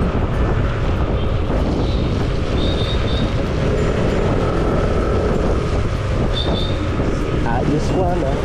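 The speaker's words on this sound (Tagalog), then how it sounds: "ang lakas pala ng hangin" Strong outdoor wind buffets the microphone in a constant, loud, broadband roar that never lets up, with faint voices mixed underneath.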